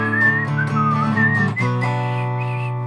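Someone whistles a melody with a clear, wavering pitch over guitar backing on a Gretsch G5034TFT, steady and close throughout.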